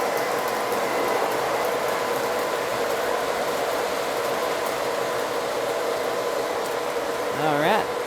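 A Lionel model freight train runs on its track with a steady whirring, buzzing motor hum throughout, ending in a brief rising warble near the close.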